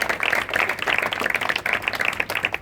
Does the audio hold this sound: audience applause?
yes